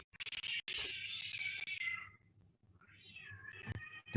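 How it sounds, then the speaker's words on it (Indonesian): A house cat meows loudly and close, two long drawn-out cries separated by a brief pause, with a little background noise. "Kucing saya ikut heboh."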